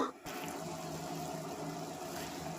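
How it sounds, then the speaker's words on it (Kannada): Water boiling in a pot on a stove with gooseberries (amla) in it, a steady close bubbling rush that runs continuously after a brief quieter start. "ಇವಾಗ ನೋಡಿ ಇಷ್ಟು ಕುದೀತಾ ಇದೆ"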